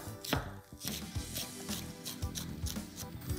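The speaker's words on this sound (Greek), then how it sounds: "τα ψιλοκόβεις εδώ" Knife chopping vegetables finely on a cutting board for coleslaw, with a steady series of close, soft knocks and scraping strokes at a quick, even pace and no talk.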